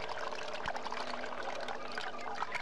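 Water pours steadily as several thin streams from a container's holes merge into one fat stream. It makes a continuous, close, rushing splash with no voices.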